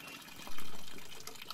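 Water rushes in with a sudden gush, then continues as a softer steady flow as an LG top-loading washing machine drum fills at a small water level, fairly quiet and close.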